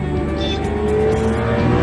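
A drag racing car roars along the Gimli airstrip, converted into a drag strip for a Saturday race, its engine loud and steady with its pitch climbing as it accelerates, no voices heard.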